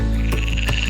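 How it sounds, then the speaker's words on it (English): Frogs croaking as the weather warms, a steady dense chorus close by with two brief louder bursts standing out, no talking. "that's the sound of birds chirping and frogs croaking"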